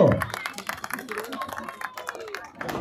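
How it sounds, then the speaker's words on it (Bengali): An audience at a live event being streamed on Facebook claps in a scattered, uneven burst of applause of moderate loudness, with a voice briefly heard at the start. "এবার জোর করে সবাই মিলে হাততালি চাইবো।"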